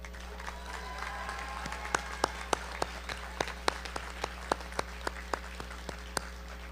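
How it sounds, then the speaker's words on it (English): Scattered applause at a Woodbury University commencement ceremony for the classes of 2020 to 2022: sparse, distinct claps ring out one after another over a low hum in a large, quiet hall. "Graduates, let's give them a round of applause."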